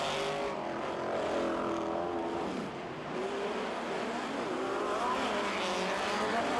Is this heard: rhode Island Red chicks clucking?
no